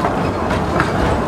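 Steady rumble of a small ride-on train at a rail museum rolling along its track, with a constant rattling clatter throughout and no talking.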